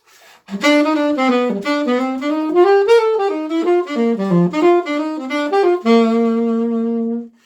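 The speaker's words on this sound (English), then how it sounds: "jazz music on the saxophone would sound something like this" A solo saxophone plays a lively jazz phrase, bending and sliding between notes before settling on a long held tone; close, clear and alone.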